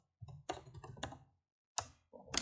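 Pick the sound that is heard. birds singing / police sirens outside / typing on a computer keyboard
typing on a computer keyboard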